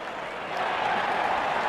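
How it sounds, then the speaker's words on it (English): Crowd at an India versus Afghanistan cricket World Cup match, on their feet and applauding: a dense, steady wash of clapping and crowd noise that swells slightly midway, with a commentator's voice over it. "Everyone is standing and applauding."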